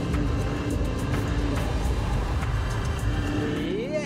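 High-performance SUV, a Lamborghini Urus or tuned Porsche, driving fast on a track, a steady loud engine roar with a rising whine near the end.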